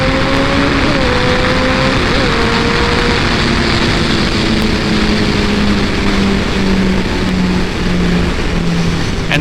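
A 2014 Kawasaki Ninja ZX-14R sport bike revs hard under acceleration, its engine note climbing and shifting beneath a loud, constant rush of wind throughout.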